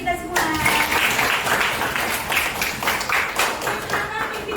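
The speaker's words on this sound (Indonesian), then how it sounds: "Tepuk tangan untuk kita semua." Pupils in a classroom break into a burst of applause, dense close clapping from many hands holding steady for several seconds, with voices mixed in underneath.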